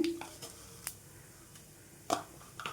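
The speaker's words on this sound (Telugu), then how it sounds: "ఈ మొత్తం కూడా మంచిగా ఈ విధంగా వేయించుకోవాలండి" Urad dal and cumin seeds fry in oil with a faint, quiet sizzle, broken by a few brief scrapes and clinks of a spoon against the pan.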